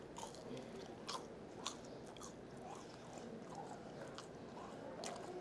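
Close-up crunchy chewing of crispy fried meat at a Chinese restaurant, with repeated crisp bites and moist mastication sounds in between, no talking.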